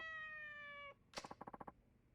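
A cat meows in the video game Yakuza 4 Remastered, a short, close, clear meow following a held synth tone, then a brief run of rapid plucked game notes.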